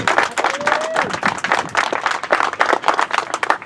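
A crowd at a Memorial Day cemetery observance claps for a band in a dense, continuous burst of applause, loud and close, with some faint voices mixed in.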